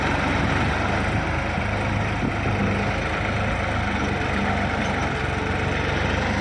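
A tractor engine drones steadily and loudly in low second gear at 1500 RPM, pulling a plow through a dusty field under load, with no talk over it.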